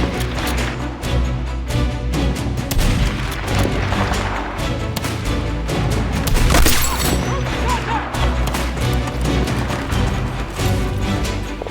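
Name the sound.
artillery strike explosions in video game Battlefield 6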